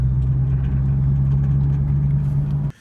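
A Chevrolet Camaro SS 1LE engine drones steadily and loudly at a constant low pitch while driving, then cuts off abruptly at the end.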